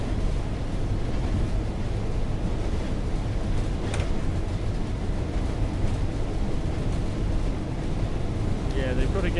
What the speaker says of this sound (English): they've got to get this engine sound sorted out